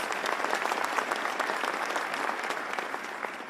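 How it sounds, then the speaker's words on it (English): Audience applause at a New York City ceremony honoring advocates of the 9/11 Victims Compensation Fund, a steady dense wash of many hands clapping, sustained without a break and fairly close. "Please give them a round of applause."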